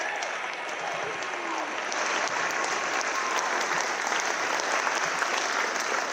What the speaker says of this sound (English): can we just have one more round of applause for this amazing group behind me?